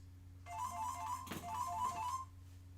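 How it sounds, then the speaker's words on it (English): A phone rings with a repeating high electronic ringtone pattern over a low steady hum, moderately loud, with a thump partway through. "Sorry, folks, phone's going off."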